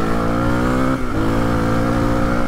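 Suzuki DR 350 enduro motorcycle engine revving steadily and loudly up close, its harmonic drone holding with a brief dip in pitch midway before climbing again, with no talk over it.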